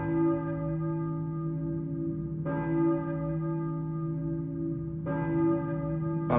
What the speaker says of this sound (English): I hear a church bell.